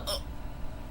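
A single soft hiccup from a young woman trying to fall asleep, close and brief at the very start, followed by quiet room noise.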